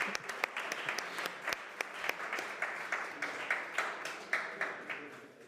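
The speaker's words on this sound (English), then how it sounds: "And I think we should all give a warm applause for that." Audience applause fills a conference hall at a surgery tour opening, a steady wash of many hands clapping at moderate level with sharper individual claps poking through for several seconds.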